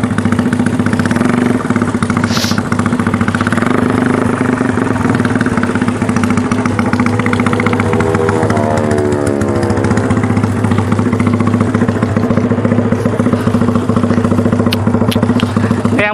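A Yamaha Scorpio bobber motorcycle idles close by at night, its engine a loud, steady, slightly clattery thrum that runs unbroken throughout with no voices over it.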